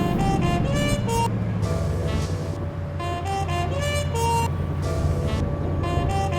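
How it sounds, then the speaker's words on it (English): Car engine in the video game The Saboteur, a loud, continuous motor drone with a steady low rumble, mixed with a tonal musical soundtrack of repeating notes that plays over it throughout. "I do remember that all the cars in this game sound awesome."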